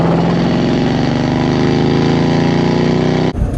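A car engine drones steadily at cruising speed on the highway, loud and close with a constant low rumble, then cuts off abruptly near the end.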